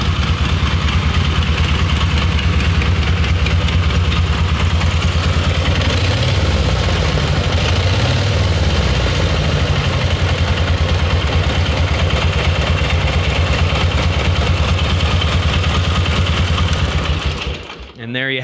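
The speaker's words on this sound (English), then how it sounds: "a pair of genuine 1942 Harley-Davidson Model XA motorcycles" A genuine 1942 Harley-Davidson Model XA motorcycle with an opposed-cylinder engine idles close by, a loud, steady, rapid chugging putter that runs evenly before cutting out at the end.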